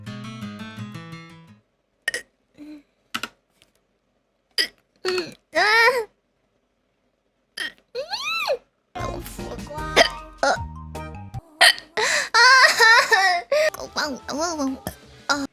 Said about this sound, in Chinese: 酝酿了一下，打出来了，我是打嗝。